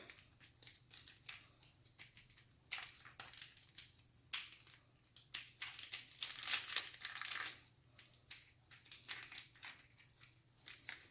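A small plastic bag is squished and kneaded to mix faux milkshake ingredients, giving soft, close crinkling and crumpling that comes in irregular bursts and swells louder midway.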